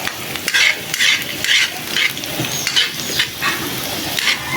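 Ginger and garlic sauté in a hot pan as the first step of a crab dish, a loud close sizzle broken by repeated bursts of stirring and scraping, with no voices.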